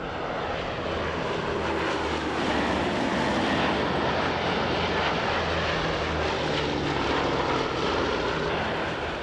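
Boeing B-17 Flying Fortress World War II bomber with piston propeller engines, a loud, steady, rumbling drone that runs without a break and swells slightly midway, with no voices.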